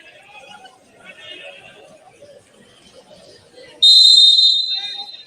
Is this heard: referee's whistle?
yes